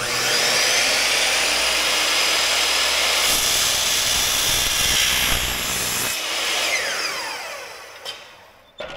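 A circular saw cuts through a Hardie smooth fiber cement panel, a loud, continuous, harsh whine grinding steadily for several seconds before spinning down, with a couple of sharp knocks near the end.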